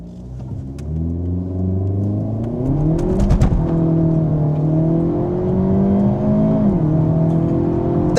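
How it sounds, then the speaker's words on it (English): A 2025 compact sport sedan, either a Volkswagen Jetta GLI or a Hyundai Elantra N, launches hard in a drag race. The loud engine roar climbs steadily in pitch, dips at a gear shift and keeps pulling, with no talk. "Let's brake boost this thing and let's get a little launch right here."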